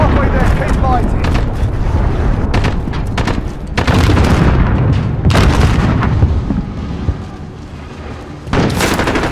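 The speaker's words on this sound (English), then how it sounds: "Cruise missile away." In a Call of Duty: Modern Warfare team deathmatch, a cruise missile explodes with loud, heavy booms. Bursts of gunfire and repeated blasts follow over several seconds, with game voices talking in the mix.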